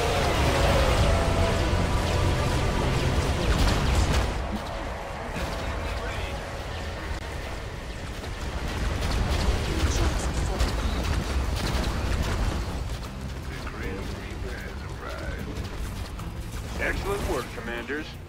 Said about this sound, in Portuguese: Vários tiros espaciais.